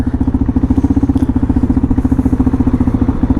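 A 370 cc motorcycle rides along a road with a steady, loud, low-pitched engine thrum pulsing rhythmically throughout, close and continuous with no voices.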